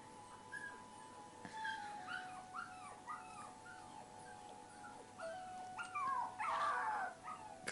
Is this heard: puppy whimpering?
yes